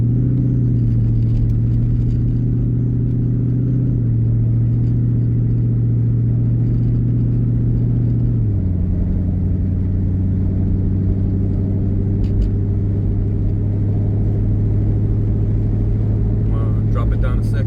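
A 2001 Ford Mustang GT engine idles and runs with a deep, steady rumble, its pitch stepping down slightly partway through, close and loud throughout.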